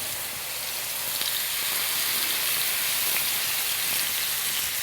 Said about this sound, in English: I'm going to sear my steak on both sides of the pan.